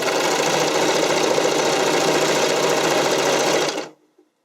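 A sewing machine runs a steady, loud, fast stitching burst along a bikini cup seam for several seconds, then stops abruptly and goes quiet.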